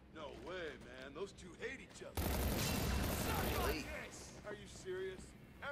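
Gunfire in the video game Batman Arkham City erupts as a dense, loud burst of rapid shots and blasts lasting over a second, with game voices and a player talking before and after.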